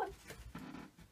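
A female dog gives a brief, close whimper that slides into a low growl in a home crafting room, short and fairly loud against quiet surroundings.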